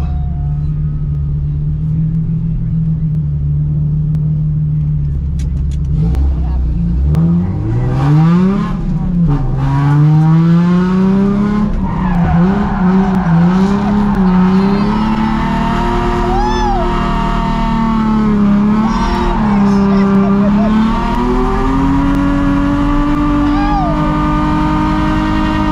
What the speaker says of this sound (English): First time drifting with my pops.